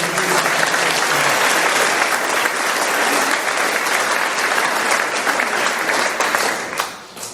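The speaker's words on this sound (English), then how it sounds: "Please give them a round of applause" Dense, steady applause from an audience at a UKIP political gathering in a hotel function room, sustained at full strength for several seconds before tapering off near the end.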